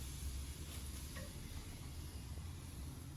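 A steak sizzles on the grate of a smoker grill right over the flames with soaked wood chips, a quiet, steady hiss and crackle under a low rumble of fire.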